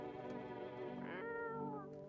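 A cat meows in the horror video game No, I'm Not a Human: one long, drawn-out, close and clear meow lasting about two seconds, its pitch rising midway, with no talking.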